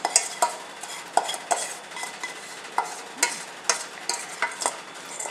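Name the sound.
scraping mixture from saucepan into a bowl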